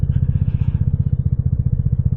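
A motorcycle, a Sprint model, idles close by with a fast, steady low-pitched engine pulse and a lumpy rhythmic throb, loud and alone without talk.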